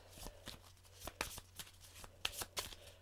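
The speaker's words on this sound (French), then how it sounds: "Alors on mélange bien nos cartes." Tarot cards are shuffled by hand in a short burst of soft, close riffling and slapping sounds. It is quiet, and no one talks.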